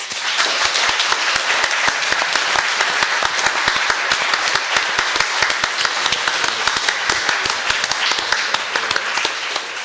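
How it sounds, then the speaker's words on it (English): An audience at a city ward candidate forum breaks into loud, sustained applause, dense overlapping claps filling the room without a break. "you can now show your appreciation for the candidates by your applause"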